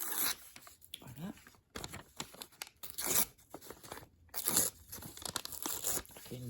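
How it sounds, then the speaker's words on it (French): Paper edges being torn off by hand for a ritual, a series of short ripping and crinkling bursts separated by pauses, close and fairly quiet, with someone speaking in between. "on va déchirer les bords"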